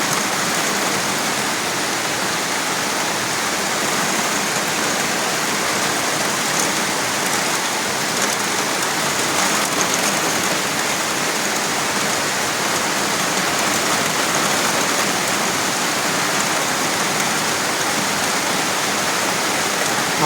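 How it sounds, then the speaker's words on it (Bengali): Torrential rain from Cyclone Montha pours down on a Kolkata street as a dense, even roar that holds unbroken for the full stretch. "প্রচণ্ড মুষলধারে বৃষ্টি পড়ছে।"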